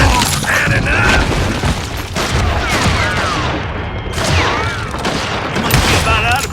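Dense, rapid gunfire in a Western mine shootout from Call of Juarez Gunslinger, with overlapping shots and booming blasts filling the whole stretch and clinking metallic mechanisms between bursts.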